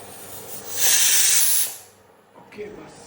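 A pressure cooker cooking masala rice lets out a loud, bright hiss of escaping steam that lasts almost a second, then fades to a low simmer and a short softer hiss.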